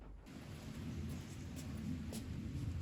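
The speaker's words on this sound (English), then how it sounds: "I've heard the raindrops" Steady rain patters on a courtyard garden's concrete floor with a low rumbling underneath, continuous and fairly close, with no voices.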